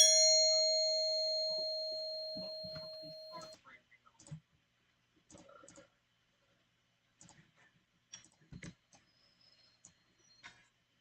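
A single bright electronic door chime rings out and decays over a few seconds at a gas station, followed by quiet scattered clicks and a few soft spoken words.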